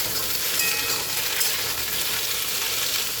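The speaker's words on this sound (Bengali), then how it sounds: "আমি আরেকবার নেড়ে দেবো।" Ridge gourd and potato fry in a wok with a loud, continuous sizzling hiss, steady throughout with faint stirring movement underneath.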